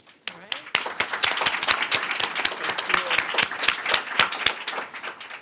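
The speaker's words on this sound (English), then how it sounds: "we should start off the panel with a welcoming round of applause" Welcoming applause from a panel audience, a small crowd clapping with sharp, distinct individual claps in a steady patter lasting several seconds, with faint voices underneath.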